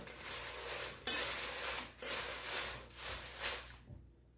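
Dried chilies are dry-roasted in a pan and stirred, giving repeated scraping, rattling strokes at a steady rhythm, up close and fairly quiet, with no talk.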